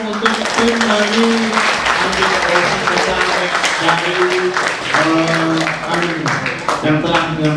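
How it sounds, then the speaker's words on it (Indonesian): Schoolchildren applaud an organizing team at a musical discussion event on anti-violence, a steady patter of clapping running beneath continuous talking and voices for the whole stretch. "tepuk tangan anak-anakku untuk tim dari"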